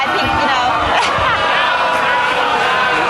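A spirited crowd at a political event gives off a loud, dense, continuous roar of mixed voices and chatter with no clear pauses.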